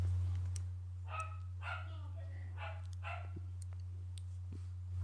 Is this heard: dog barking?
yes